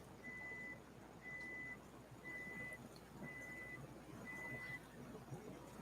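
A household refrigerator gives five evenly spaced, steady electronic beeps, each about half a second long, under faint background noise.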